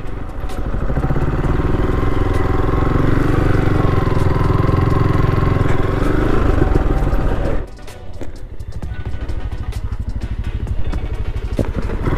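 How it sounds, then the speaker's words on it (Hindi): A motorcycle engine runs steadily and loud on a mountain road on the way to Kainthli Valley, its drone reverberating off the slopes before the roar suddenly drops to a lower, rougher idle-like rumble partway through. "यहाँ पे बाइक की आवाज़ गूंज रही है बहुत गंदे तरीके से।"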